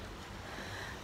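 Sea waves wash steadily along a calm morning shoreline, a soft continuous surf hiss with low rumbling swell and light wind noise, heard alone without voices.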